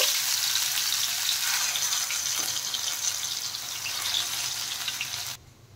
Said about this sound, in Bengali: আর এইভাবে সবকটা আমি ভেজে নেব।